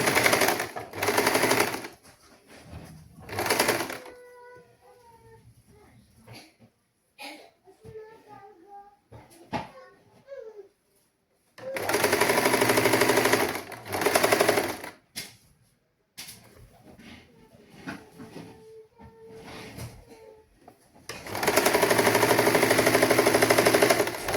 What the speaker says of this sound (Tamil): அதாவது 1/2 இன்ச்சு இடைவெளியில் நாங்கள் எடுத்து தைக்கணும்.